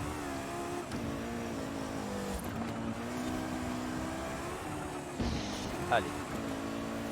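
In the racing game Forza Horizon 5, a car engine drones and builds as the car speeds up past a checkpoint, with brief shifts in pitch, under someone commentating in French.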